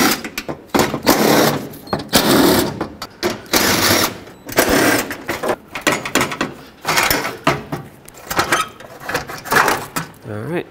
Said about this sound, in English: So I'll just take out all the 10mm bolts that are holding this on